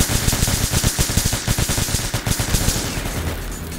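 Rapid bursts of automatic gunfire in a French-language first-person shooter match, loud and close, with dense rattling volleys continuing throughout and no talk.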